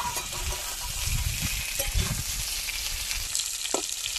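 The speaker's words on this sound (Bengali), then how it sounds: "এবার দিয়ে দেবো বড় বড় করে কেটে রাখা ঝিঙে। ঝিঙেটা একটু ভাজবো।" Large chunks of ridge gourd dropped into hot oil with tempered chilli and bay leaf, giving a steady broadband sizzle throughout with a few soft stirring knocks, no voices.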